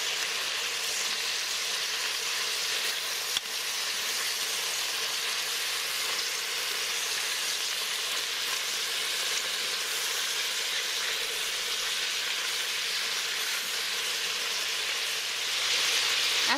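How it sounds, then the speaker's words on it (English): Pork pieces searing in a hot pan give off a steady, dense sizzle that stays loud and even throughout, with no talking. "you're going to get a good sear on your pork pieces."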